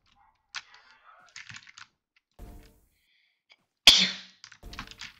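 A single sharp sneeze bursts out close by during a Roblox Blade Ball match between parent and child, set among light computer-keyboard clicks and taps with no talking.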